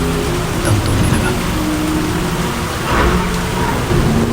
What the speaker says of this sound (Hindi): गाड़ी का इंजन धीरे धीरे अपनी सांस तोड़ने लगा और एक अचानक झटके के साथ कार उस सुनसान पहाड़ी रास्ते पर रुक